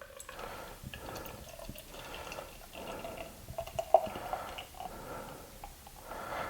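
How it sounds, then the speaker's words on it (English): Murphy's Irish Stout, a nitrogen beer, pours into a glass at an angle, a soft continuous liquid rush and gurgle with faint fizzing, close and quiet. "if I follow the directions, I will pour half of it at about a 45-degree angle."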